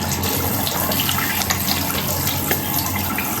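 Running water splashes at a bathroom sink as face wash is rinsed off, a steady close hiss with small splashes and no talking.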